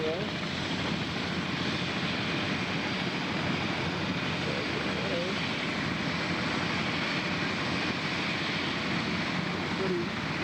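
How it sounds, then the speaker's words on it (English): Three helicopters arrive near a boat somewhere in Alaska or British Columbia, a steady loud rotor and engine roar filling the whole scene without letup, with voices faintly mixed in. "Helicopters just come in."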